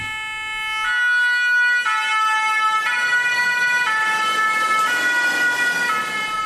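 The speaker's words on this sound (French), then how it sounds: "Les pompiers partent en intervention." Fire engine sirens wail as firefighters pull out of the Dongoni emergency response centre on a call. The loud, steady two-tone pattern switches pitch about once a second and rises over engine rumble.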